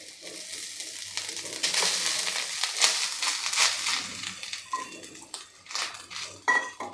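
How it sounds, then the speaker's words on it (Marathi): Grated coconut is stirred and roasted with poppy seeds in a pan over a low flame. A soft, continuous scraping and gentle sizzle sounds up close, with occasional clinks of the spoon. "आता मंद गॅसवर आपल्याला हे परतून घ्यायचं आहे"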